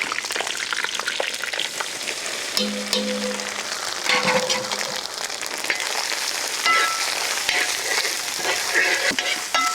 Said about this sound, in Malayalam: അതിലേക്ക് നമുക്ക് വറുക്കാനുള്ള തേങ്ങ